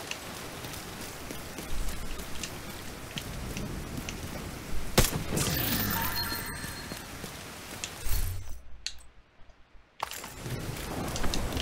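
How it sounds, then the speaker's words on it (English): Rain in the video game The Division 2 patters steadily over an outdoor game scene, with scattered footsteps, brief sharp game effects and a short near-silent gap partway through. "Every time I come out here now, it's raining."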